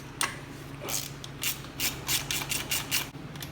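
A ratchet wrench undoes bolts on a Honda GCV160 lawnmower carburetor bracket, giving a close series of sharp clicking bursts in an uneven rhythm over a low steady hum.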